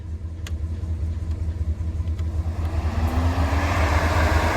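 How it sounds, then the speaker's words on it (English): Heater fan motor running in a 1947 Monarch converted to 12 volts, a steady close hum and rumble that swells louder and rises in pitch toward the end as the fan spins up. "Let's try our fan motor."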